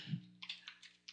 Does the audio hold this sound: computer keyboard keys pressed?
yes